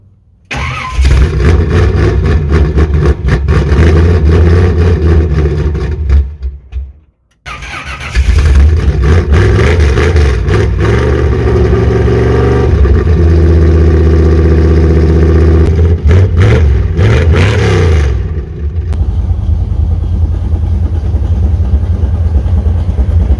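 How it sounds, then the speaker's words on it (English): A Chevrolet C10 pickup engine cold-starts with a cranking catch, then roars loudly and revs, briefly cuts out, restarts and keeps running with rising and falling revs before settling toward idle. "hook a battery up and do a little cold start on this rig, get her fired up"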